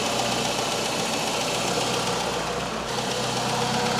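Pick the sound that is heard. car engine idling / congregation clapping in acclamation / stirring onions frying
car engine idling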